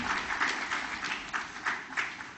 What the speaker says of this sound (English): Ladies and gentlemen, a round of applause for Chetan Kumar Srivastava sir.